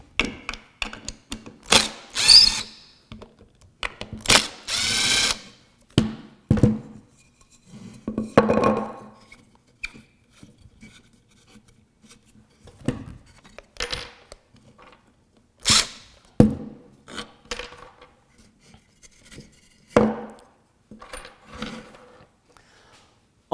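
Screws and small hardware clink and rattle as a table leg bracket is unscrewed and taken apart, with a spacer block and leg screws involved: sharp, irregular knocks and metallic taps, close and intermittent, with no talking.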